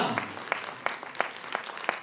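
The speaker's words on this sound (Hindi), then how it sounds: "तो फिर स्वामी जी के लिए ताली नहीं बजती क्या?" Scattered clapping from an audience at a regional conference inauguration in India, with a steady patter of hands and a few louder claps recurring at a regular pace, heard fairly close.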